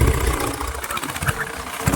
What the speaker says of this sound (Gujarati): ટ્રેક્ટર